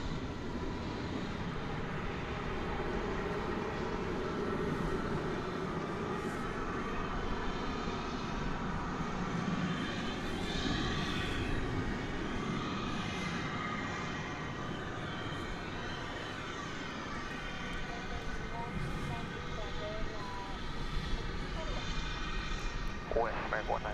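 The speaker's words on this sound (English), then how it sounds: "It's an Airbus A321neo. It's arriving from Phoenix." American Airlines Airbus A321neo arriving from Phoenix at DFW Airport at night, a steady distant jet engine rumble running throughout beneath radio chatter and talking voices.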